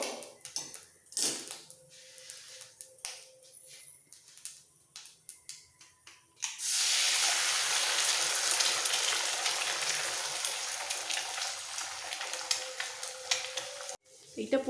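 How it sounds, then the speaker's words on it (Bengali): An egg is cracked into hot mustard oil in a pan for egg dum biryani. A few light taps and clicks come first. Then a sudden loud, steady sizzle starts and runs on with a brief dip near the end. "এই তেলটা হয়ে গেছে এটা এর মধ্যে একটা ডিম ফাটিয়ে দিয়ে দেবো"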